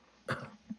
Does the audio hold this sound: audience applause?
no